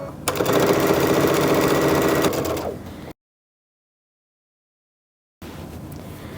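A sewing machine stitches quilt binding in a loud, steady run of rapid needle strokes for a few seconds, then stops; a dead silence follows before quiet room noise returns.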